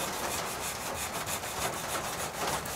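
Coarse 80 grit sandpaper rubs back and forth over the bevel of a wooden guitar body in quick, even strokes, a close, raspy scratching with no voices.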